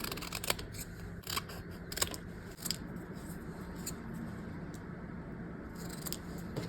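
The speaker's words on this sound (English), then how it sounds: "It's now time to cut up these stickers and figure out where I want to place them." Scissors snip repeatedly through skateboard stickers, with sharp crisp cuts in irregular bursts over a quiet room hum, close by and with no talking.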